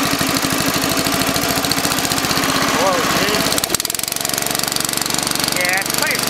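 A Honda GX140 small petrol engine runs smoky, its loud, steady rapid-firing chug continuing throughout with a brief stumble midway before settling back into an even idle.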